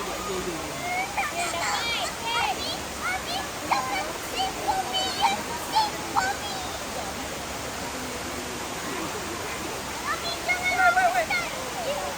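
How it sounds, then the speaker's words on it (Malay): River water rushes in a steady, broadband flow at an eco forest park river, with people chatting and calling out over the continuous noise. "Ada air."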